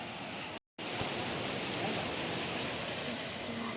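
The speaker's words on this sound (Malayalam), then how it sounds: "പുഴയുടെ വേറൊരു ഭംഗിയാണ് ഈ സൈഡിൽ വന്നപ്പോൾ കണ്ടത്." A river near Kottiyoor temple flows with a steady broadband rush of water. It is close and constant, with one brief dropout to silence near the start.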